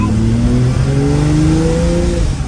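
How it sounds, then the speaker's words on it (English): A 1968 Ferrari 365 GT 2+2 with a freshly rebuilt engine and new clutch drones steadily on a road test, its loud engine note rising gently under acceleration from inside the cabin. "We're going to be road testing our 68 365 GT2 Plus 2."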